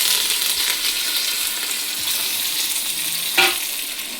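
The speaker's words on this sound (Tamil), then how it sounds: "அது பொரியட்டும்." Curry leaves and dried red chilies fry in hot oil for sambar, making a continuous close sizzle with a brief louder crackle near the end.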